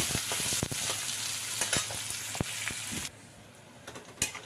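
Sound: chopped onion, ginger and garlic frying in pan

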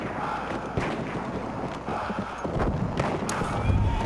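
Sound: horse galloping in video game Battlefield 1

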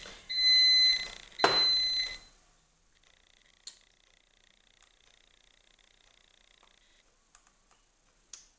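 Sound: washing machine beeping alert

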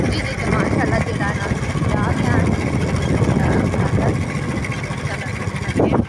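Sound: motorcycle ride with family

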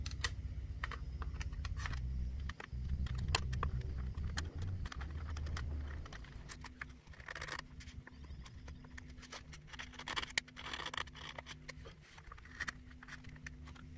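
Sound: cutting the bass bar off a violin top plate

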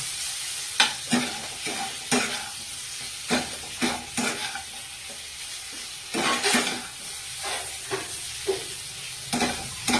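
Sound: eggplant frying with grated coconut, stirred in pan

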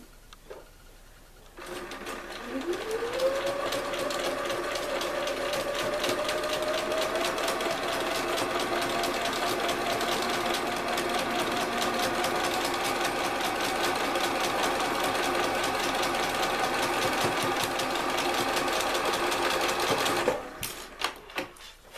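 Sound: sewing machine stitching quilt blocks

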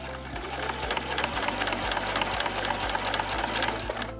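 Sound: sewing machine stitching a scrap fabric placemat

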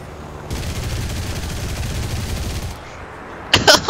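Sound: Yak 9 aircraft guns firing in War Thunder video game

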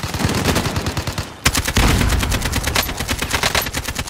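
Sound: gunfire in video game Call of Duty: Warzone

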